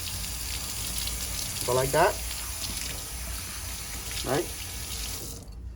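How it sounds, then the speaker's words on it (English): A tap runs steadily to rinse sanded ceramic pieces, giving a continuous close splash that cuts off near the end, while a person talks briefly over it. "You just turn the water on,"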